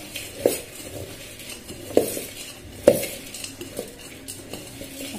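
A spoon tosses puffed-rice bhel puri with chilli in a bowl, with soft scraping and stirring broken by three sharp, well-spaced clinks against the bowl.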